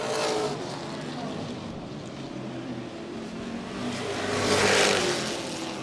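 Pro racing trucks on an oval track, a continuous engine roar with a broad rush that swells louder near the end as the pack passes.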